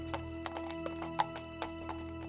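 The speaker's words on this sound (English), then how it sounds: "Excuse us, horses coming through, horses on set." Horses walking single file across a downtown Winnipeg film set, their hooves clip-clopping in an uneven rhythm, close but fairly quiet, over a low steady hum.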